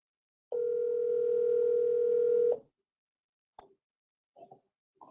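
Steady telephone dial tone on a speakerphone, a single continuous tone lasting about two seconds before cutting off, followed by a few faint short clicks in an otherwise quiet room.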